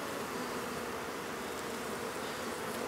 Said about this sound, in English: there's a bee trying to sting my camera